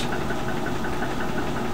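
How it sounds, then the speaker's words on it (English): A roller coaster train on a long lift hill, with a steady mechanical rattling and ticking drone that holds at even level throughout with no talk. "A long lift hill."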